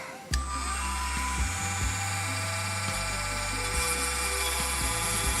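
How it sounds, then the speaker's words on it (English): A Dremel 1x16 rotary tool shaves plastic from a 1/60 scale model kit. After a brief pause it settles into a steady, close, high-pitched whine that holds constant with slight wavering. "I'll be using the same kind of Dremel. I believe it's the 1x16 Dremel, and just gonna shave away a little bit"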